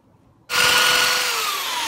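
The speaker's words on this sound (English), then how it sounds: "But this is dirty, so I think some sandpaper will take care of the job." A power tool starts abruptly and then runs steadily, loud and close, while cleaning a dirty door glass sweep, with a slight falling whine as it settles.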